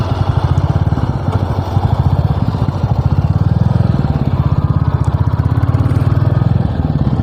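Royal Enfield 350 motorcycle engine thumping steadily at close range with a rapid, even pulse, loud and continuous throughout with no one speaking.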